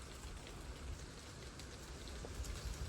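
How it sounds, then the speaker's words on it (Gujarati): Steady rain pattering down, a dense, even hiss of drops with no voices, continuous throughout. "વરસાદનો આદરતા જુઓ મિત્રો"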